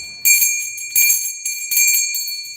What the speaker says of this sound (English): That's a pretty bell there.